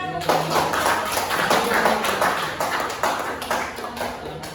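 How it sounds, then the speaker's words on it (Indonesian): A classroom of students clapping hands together, a dense patter of many claps that swells and fades over a few seconds, with some talking underneath. "Oke, mulai tepuk tangan."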